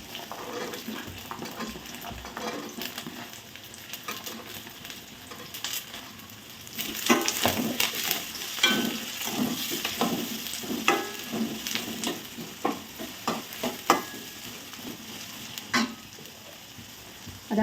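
Carrots and peas for vegetable upma sizzle and fry in a pan while being stirred, with frequent close scraping and clinks of the utensil over a steady crackle.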